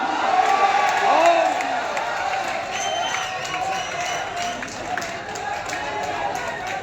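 An audience at a live comedy poetry recital in Malegaon breaking into applause, cheers and whoops, a dense crowd wash that swells and then settles, with someone talking over it.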